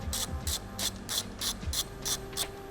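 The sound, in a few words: ratchet wrench removing shock nuts on Suzuki Savage motorcycle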